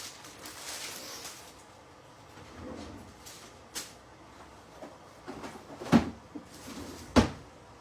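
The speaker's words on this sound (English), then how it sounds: "And then I'll put these in the drawer for another day." A kitchen drawer is opened and closed, giving a few sharp knocks and thuds at a moderate distance over quiet room noise.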